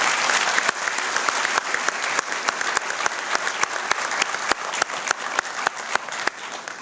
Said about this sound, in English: I want to give all of them another round of applause for the work they're doing.